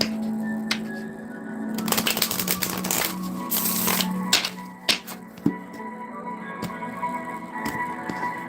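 Crisp riffling bursts of a deck of cards being shuffled, a few quick ruffles followed by sharp taps and clicks, close up with no talking.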